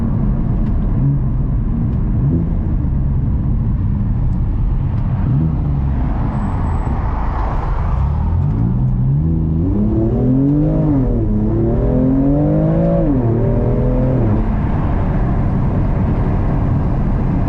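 A BMW F87 M2 Competition engine rumbles loudly and continuously, then revs and climbs in pitch as it accelerates on a straight, with a shift midway before the drone continues.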